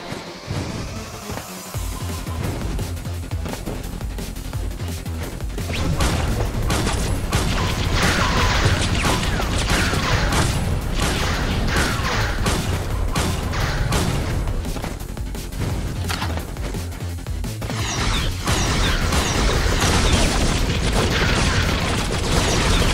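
Sniper rifle fire in the video game Choke Point, heard within a loud, dense stretch of in-game battle noise: repeated sharp booms and cracks over constant rumbling action, with no clear spaces between the shots.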